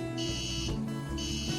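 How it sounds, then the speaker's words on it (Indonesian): A homemade RFID door lock security system buzzes twice after an unregistered tag is scanned, two loud steady electronic tones close by, separated by a brief gap. "Jika tag yang digunakan tidak terdaftar sesuai program atau salah, maka buzzer akan berbunyi sebanyak 2 kali dan pintu tidak bisa dibuka."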